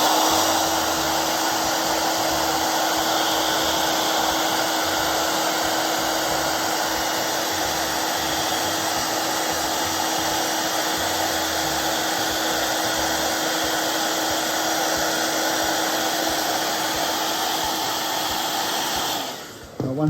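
A heat gun blows steadily on vinyl tint film on a Schuberth helmet visor, a loud, even whooshing drone that runs on unbroken before cutting off at the end.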